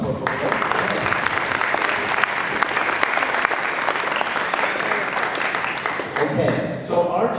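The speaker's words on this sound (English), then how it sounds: "So applause for them." An audience applauds a drummer and an alto saxophone player with loud, dense, sustained clapping that holds steady for several seconds and thins slightly at the end.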